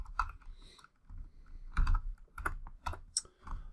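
Typing on a computer keyboard while jotting down marble maze dimensions, with irregular bursts of clattering keystrokes separated by short pauses, close and moderately loud.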